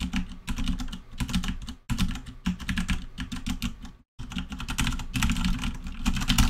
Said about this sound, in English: You can see exactly what I'm typing right now